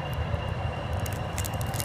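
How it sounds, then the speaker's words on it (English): Loud train passing close by, a steady heavy rumble and rattle of rail cars filling the whole moment, with no talk over it. "The train is so loud."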